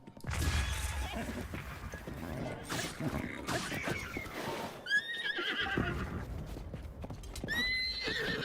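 A horse in Zelda: Breath of the Wild clops along steadily, hooves thudding throughout, and lets out two high, wavering neighs partway through and near the end, with faint game-battle sounds behind.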